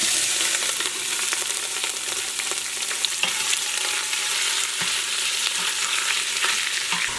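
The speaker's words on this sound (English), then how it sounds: "While the pork is sauteing," Pork sauteing in a pot, a loud continuous sizzle with frequent stirring clicks and scrapes, heard alone without any talking.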